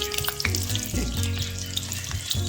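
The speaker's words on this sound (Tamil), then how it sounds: "எண்ணெய் சூடானதுக்கப்புறம் உளுந்து மட்டும் போட்டு நல்லா ஃப்ரை பண்ணிக்கோங்க" Urad dal frying in hot oil in a kadai, a steady close crackling sizzle that carries on throughout with small bubbling pops and no talk.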